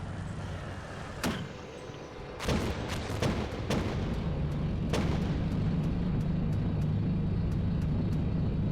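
Several sharp gunshots and heavy booms from incoming fire in the Steel Beasts Pro PE tank simulator. They sound irregular and fairly close, with a steady engine-like rumble running underneath.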